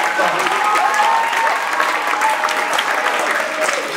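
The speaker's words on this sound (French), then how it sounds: "Je pense qu'on peut l'applaudir vraiment." Sustained applause from an audience at a closing ceremony of a student math conference, steady dense clapping filling the room throughout, with a few faint voices mixed in.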